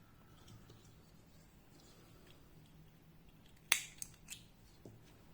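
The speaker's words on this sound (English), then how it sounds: "Now we are cutting the yarn." Scissors snip through crochet yarn in a quiet room, a sharp close cut followed by a few smaller clicks and snips after a long near-silent pause.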